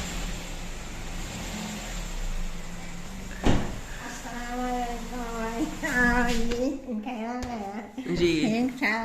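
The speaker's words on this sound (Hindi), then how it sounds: "दरवाज़ा जो है सबसे पहले वो खोल" A door opened at a house where a car and tractor are parked, a single sharp clunk partway through, followed by people talking nearby over a faint background hum.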